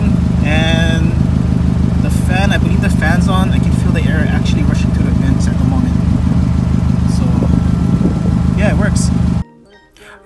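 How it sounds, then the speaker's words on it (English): A 2015-or-later Subaru WRX STI idles with a steady, rhythmic engine rumble and a running fan nearby, while a person talks over it until the sound cuts off near the end. "It's sitting at idle and I think the fan's on and it's actually pushing the air out right now."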